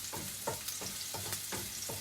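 Chopped garlic sizzles in hot oil in a pan, a steady crackling hiss broken by several soft stirring scrapes at an uneven rhythm, close up and with no voices.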